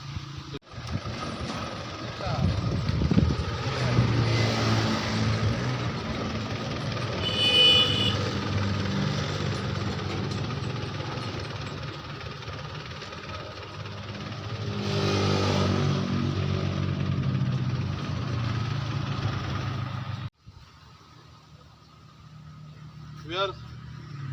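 A tractor engine runs in a rural village near tomato fields, a steady, moderately loud low drone that swells and eases over about twenty seconds. People talk over it, and near the end it drops to a quieter hum.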